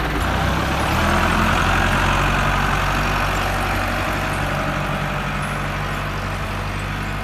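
A tractor engine idles steadily with a deep, rumbling low throb, close and fairly loud throughout, with no talk over it.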